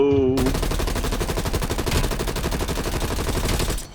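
Rapid automatic gunfire in Call of Duty Black Ops Cold War, loud and close, hammering in dense continuous bursts for nearly four seconds.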